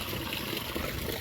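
Water spills over the rim of a full tank on a farm in the Konkan countryside during the rainy season, a continuous soft trickling and splashing flow, faint and steady without pauses.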